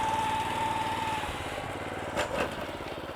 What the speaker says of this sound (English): I'm just letting the mower just ride the contours of the slope